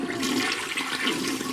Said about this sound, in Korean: 티나는 바닥으로 떨어지지 않으려고 변기물을 내리는 손잡이에 매달렸죠